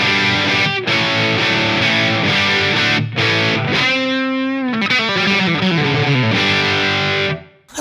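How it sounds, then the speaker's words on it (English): Heavily distorted electric guitar through a Line 6 Helix modelling an Orange Rockerverb 100 MkIII amp, playing loud sustained chords and bending notes, thick and saturated, with brief gaps between phrases and no voices. "where we're going to have a proper, you know, full-on distortion sound."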